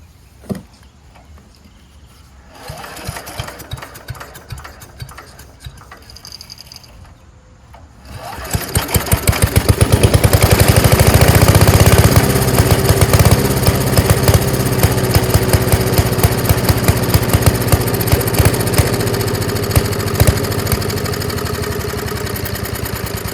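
A Craftsman wood chipper and leaf shredder with a 5HP Briggs engine, fitted with a HIPA carburetor, stays quiet through the first attempts, then fires at about eight seconds and runs loud and steady, with no voices heard.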